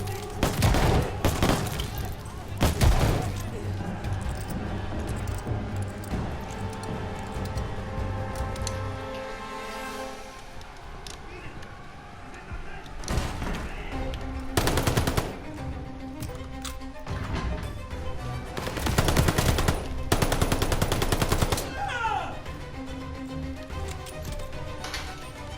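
Gunfire and bursts of machine gun fire from the Stalingrad campaign of Call of Duty Vanguard crack repeatedly over a continuous battle soundscape, with loud volleys clustered at the start and again later, mixed with a low background rumble.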